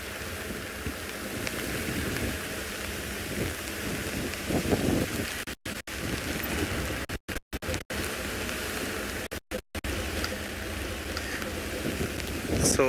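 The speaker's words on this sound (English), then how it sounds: "more rain is still coming this way, and it looks much heavier on a distance than here where I am" Rain falling steadily outdoors during a live safari broadcast, a constant dense patter with light scratchy rustles, close and even throughout, with a few brief dropouts in the sound.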